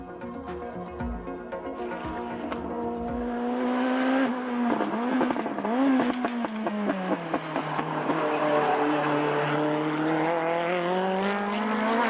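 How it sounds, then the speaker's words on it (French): A Peugeot 505 Turbo race car's engine of nearly 600 horsepower roars on the Hockenheim track, a loud sustained drone that swells, dips and surges again through rapid revs, with no voices. "la 505 Turbo de Jean-Pierre Beltoise est de loin la plus puissante de ces trois voitures françaises, puisque son moteur propose pratiquement 600 chevaux"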